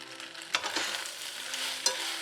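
Fried macaroni with gravy stirred in a pan, a soft continuous sizzle with scraping utensil strokes, two sharper scrapes standing out, close and alone without talk.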